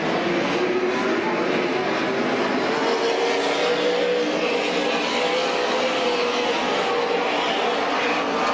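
Stock race cars roar around Midvale Speedway, a loud, continuous engine drone with pitch slowly rising and falling as the pack circles the oval track.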